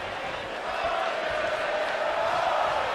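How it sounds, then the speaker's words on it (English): A large arena crowd in the wrestling video game WWE 2K19 chants and roars in a dense, continuous wash, with commentary voices beneath. "As the East Lansing crowd, we saw them chanting Hideo early on, and now the early Olay chant, a sign of respect for Sami Zayn."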